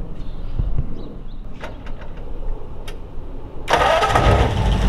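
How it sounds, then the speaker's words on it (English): A 1937 Ford convertible with a flathead V8, Mallory ignition and Edelbrock parts, cranks with a rapid starter whir before catching and settling into a loud, steady rumbling idle close by. "fired up here for you"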